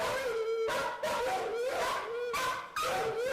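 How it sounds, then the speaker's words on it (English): A fearful dog in an animal shelter barks and howls in repeated drawn-out bursts, loud and close, with brief gaps between each cry. "Just think about that barking too for that fearful dog."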